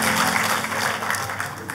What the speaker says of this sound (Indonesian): Tepuk tangannya buat Tuhan kita yang paling meriah